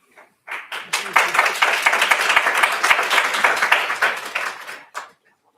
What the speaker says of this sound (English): Also, can you please refrain from clapping?